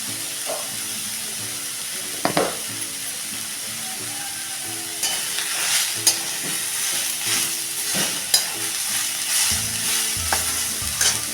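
Green chickpea vegetable stir-fried in a pan, with a steady sizzle and frying hiss and intermittent scraping stirs of a spoon against the pan, close and continuous throughout.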